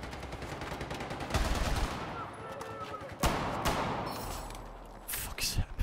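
RPK light machine gun fire in Battlefield 4, with loud bursts of automatic shots in separate volleys, a heavier burst near the middle and rapid short shots toward the end, amid other battle noise.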